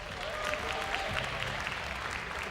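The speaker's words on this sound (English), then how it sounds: "please give them a warm round of applause" A large audience at an esports world championship breaks into sustained, dense applause that fills the arena evenly, with no voices rising above it.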